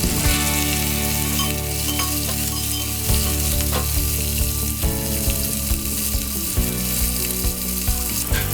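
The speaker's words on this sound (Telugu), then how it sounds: "ఆయిల్ వేడిన తర్వాత మిర్చిని యాడ్ చేసుకుందాం." Green chilies frying in hot oil in a bowl for chutney, a loud, close, continuous sizzle with scattered crackles and a few soft scrapes, and no voices.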